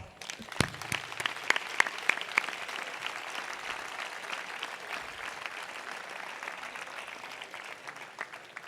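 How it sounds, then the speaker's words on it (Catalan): Applause rises at a local festival presentation ceremony for the festival queen and her court, a few sharp early claps swelling into steady, fairly distant clapping from a large crowd. "des d'ací demano un aplaudiment per a tots ells"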